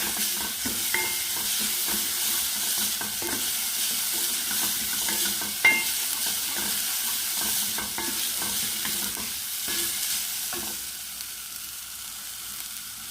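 Shallots and garlic frying in a pan while being stirred, a steady close sizzle with repeated scraping strokes of the spoon throughout, no talking.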